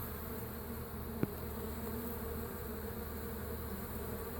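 Steady, dense insect buzzing from many honeybees during a honeybee removal at Lake Hollingsworth, a continuous hum close by with one brief click partway through.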